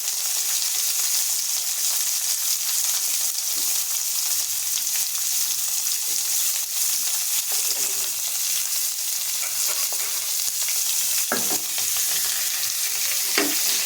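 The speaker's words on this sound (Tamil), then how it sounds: "நல்லா கிண்டிக்கலாம்" Onions, curry leaves and chillies sizzle steadily in a hot pan as a spoon stirs them, with occasional scraping clicks over the continuous frying hiss.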